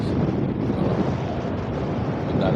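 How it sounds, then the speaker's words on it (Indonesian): Strong wind buffets a small fishing boat out snapper fishing at sea, a steady loud broadband roar and rumble that runs unbroken for the whole stretch, with no clear voices. "Kebetulan dari pagi anginnya kenceng ngegas terus"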